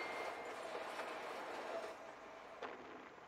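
A train in the Lego Batman 2: DC Super Heroes video game gives a steady rumbling rail roar with faint clatter, dropping slightly in level near the end, with no voices over it.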